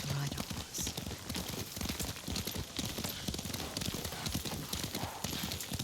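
Horse hooves clip-clop at a steady riding pace in the Ghost of Tsushima video game, a continuous rhythmic galloping beat heard fairly close, with faint voices and ambience underneath.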